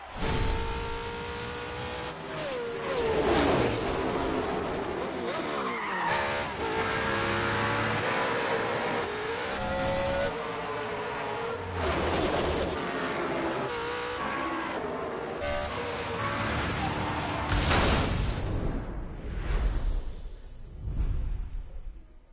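NASCAR race cars in The Crew Motorfest video game roar and rev continuously, engines rising and falling through gear changes as several cars pass close by, loud throughout with a fading pass near the end and no talking.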